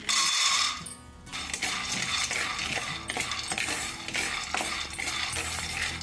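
A cup of dry peanuts tumbles into a cooking pan with a rattling clatter, starting as a dense rush, then settling into steady clinking and stirring scrapes at close range.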